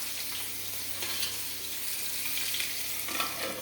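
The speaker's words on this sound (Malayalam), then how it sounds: "ഉള്ളിയൊക്കെ ഒന്ന് വഴലണം" Onions sautéing in a hot pan, a continuous bright sizzle and crackle of frying with occasional stirring, close and steady with no talking.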